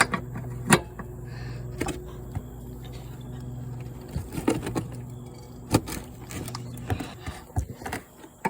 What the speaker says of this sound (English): I think I'm just gonna do this one with a little hand wrench